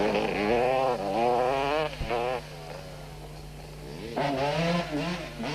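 A Winston Yamaha 200 racing motorcycle at full pace in a race, its high, buzzing two-stroke engine climbing through repeated revving gear changes, loud and close with another bike's engine behind it and a voice talking over it.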